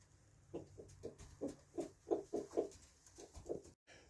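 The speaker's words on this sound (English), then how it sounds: "Nice to see the chickens here though." Chickens cluck softly outside a cabin, a string of short, faint, evenly spaced calls in a quiet setting.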